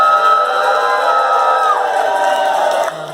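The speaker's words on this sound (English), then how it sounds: "join me in a round of applause as we welcome Stuart Holbrook." Large gala crowd at a Portland hall-of-fame ceremony cheering and whooping steadily for a new inductee, a dense sustained roar that drops off slightly near the end.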